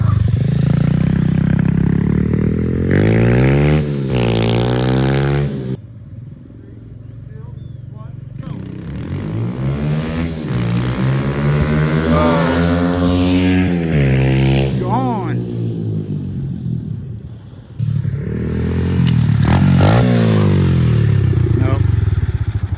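Losi Promoto RC motorcycle ripping around in dirt mode, its high motor whine rising and falling with clattering bursts, mostly under people talking nearby.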